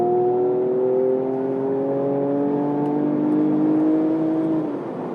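A Mercedes-AMG CLS 53 4Matic+ downshifting on a highway off-ramp, its engine note sustained and droning, heard from inside the cabin and slowly sinking in pitch before dropping away at the end.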